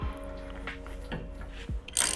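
A wrench ratcheting a bolt tight on a hitch-mounted bike rack: a few quick bursts of rapid close clicks with brief pauses, ending in a sharper metallic clack.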